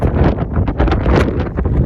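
Strong gusty wind on a wet, windy day in South Uist, Outer Hebrides, buffeting the microphone, loud irregular rushing bursts with no voices.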